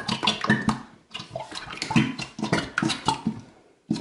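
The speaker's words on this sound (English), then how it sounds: "fill this bottle up with water and then dump it in." Water poured into a plastic glue bottle for slime making, with gurgling, splashy bursts that come in uneven pulses and a brief pause midway, close and fairly loud.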